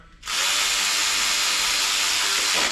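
A 1/4-inch Snap-on electric ratchet tightens PT Cruiser valve cover bolts with a loud, continuous high-pitched motor whir lasting a few seconds. It cuts in sharply and slows slightly at the end.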